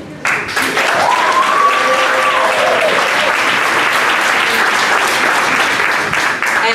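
Loud, sustained applause from an audience at a gathering honouring people connected to a sanitation workers' strike in Rocky Mount, North Carolina. It starts abruptly and carries on at full strength, with a brief voice heard early on.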